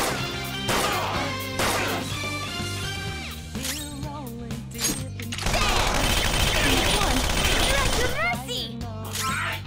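A volley of gunfire rings out during a Persona 5 Royal turn-based battle as the party shoots every shadow at once. A burst of shots lands over game music and a talking voice.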